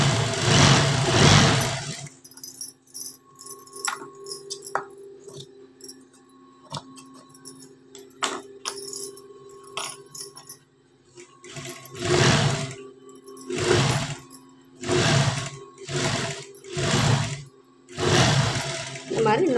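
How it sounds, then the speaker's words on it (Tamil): A sewing machine stitching a second seam on a princess-cut blouse, quiet humming and ticking runs through the middle of the passage, while someone speaks before and after the stitching. "நம்ம வந்து இன்னொரு தையல் இதில் போட்டுக்குவோம்."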